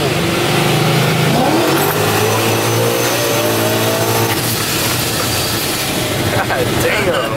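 A Cadillac CTS-V V2 accelerates hard through a full pull, its engine note rising steadily and loudly from inside the car, with excited voices over the roar.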